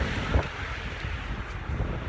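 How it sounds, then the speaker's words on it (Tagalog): Steady, blustery wind roars across the microphone at a truck parking area in Bremen, Germany, with low rumbling gusts swelling and easing throughout; no voices. "malakas yung hangin dito mga lodi, malakas. Parang parang bagyo yung hangin"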